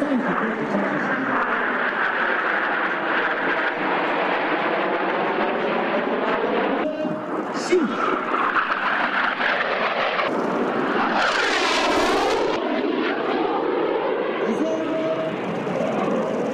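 Eight military jets flying in tight formation pass over a Victory Day air show in Turkey, a loud continuous roar with sweeping pitch changes and a sharp surge near the end, heard over the crowd and a commentator on the loudspeaker.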